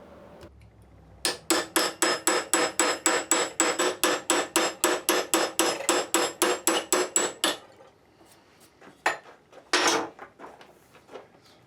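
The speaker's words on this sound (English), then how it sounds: "Now I'm going to use the cold chisel to remove the remaining metal." Hammer striking a cold chisel to cut away metal, a run of about twenty-five sharp, evenly spaced metallic blows, close and loud, followed by a pause and a few scattered scrapes and knocks.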